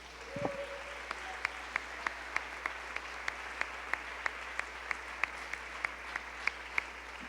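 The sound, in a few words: congregation applauding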